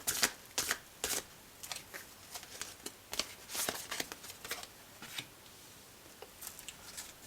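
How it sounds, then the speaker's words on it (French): Tarot cards shuffled by hand in a quiet room, a string of crisp papery riffles and soft slaps in irregular bursts, close and fairly faint, with no talking. "Je vais tout de suite tirer les cartes"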